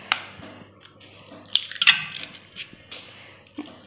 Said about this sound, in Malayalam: ഇനി നമുക്ക് ഒരു പാത്രത്തിലോട്ട് കോഴിമുട്ട പൊട്ടിച്ച് വീഴ്ത്താം.